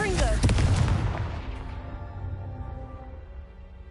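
A Confringo blasting spell explodes in Hogwarts Legacy, a loud near boom at the start that rolls off into a long fading rumble, alone.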